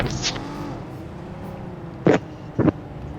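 A car driving in the PUBG Mobile video game, a continuous low engine drone with two short louder bursts near the end, no talk.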